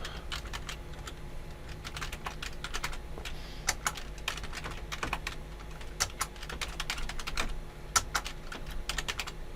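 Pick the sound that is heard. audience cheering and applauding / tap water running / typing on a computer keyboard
typing on a computer keyboard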